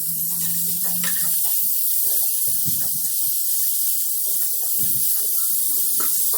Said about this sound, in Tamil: அதையும் போட்டு நல்லா வதக்கி விட்டுடலாம்.